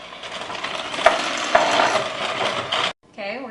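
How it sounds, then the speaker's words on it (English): Sugar and vanilla are beaten together for shortcake in a bowl, a close, steady whirring stir with a couple of clinks that stops abruptly near the end. "We're going to beat that together until it's really smooth."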